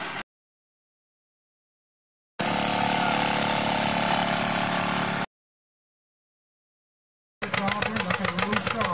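An antique tractor engine roars under load at a tractor pull at the Agassiz Fair, loud and sustained in bursts separated by silent gaps, ending with a rapid pulsing chug.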